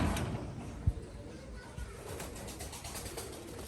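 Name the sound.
flock of pigeons in a loft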